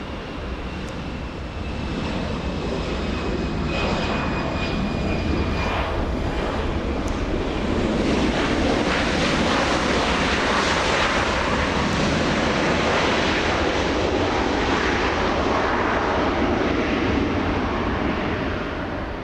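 Delta flight 2828 jet departing LAX for Denver, Colorado: a sustained, loud broadband engine roar with a faint high whine early on, steady throughout without voices.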